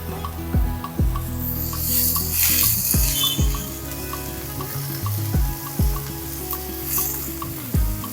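Chopped tomato fries with softened onion in a pan over medium heat, a steady sizzle broken by repeated scraping stirs and light clinks of the spoon against the pan.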